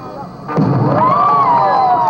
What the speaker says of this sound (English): The championships conclude with a firework display